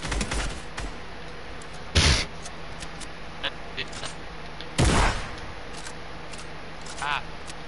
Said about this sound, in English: These guns shoot all over the place.